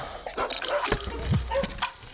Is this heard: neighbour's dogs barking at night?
yes